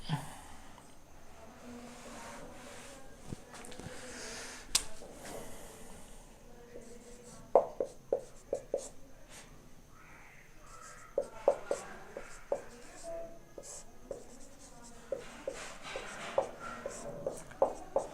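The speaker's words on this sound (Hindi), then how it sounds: "थोड़ा सा नीचे से लिखते हैं इसे" Marker or chalk strokes on a board while a physics problem about a rotor is worked through, soft scratchy writing sounds in short bursts, fairly faint and steady, with no speech over them.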